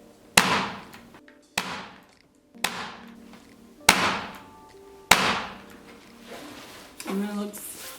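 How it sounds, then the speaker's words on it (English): A staple gun drives staples through fabric for winter home decor, firing six sharp, loud snaps at roughly one-second intervals, each with a short ringing decay and quiet gaps between. "I'm adding extra staples so these parts can get a little more tighter"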